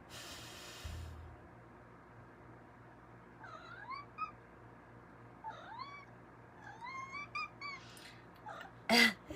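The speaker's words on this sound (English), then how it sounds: "And a cat." A cat meows several times, short rising and falling calls spaced across the stretch, fairly close and moderately loud against a quiet room, ending in a louder sharp cry.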